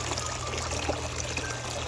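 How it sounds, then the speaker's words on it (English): Small decorative patio waterfall with gently trickling water, a soft, continuous splashing flow heard up close and at low level, steady throughout with no voices. "I heard this waterfall and I just had to buy it. I love the sound of water"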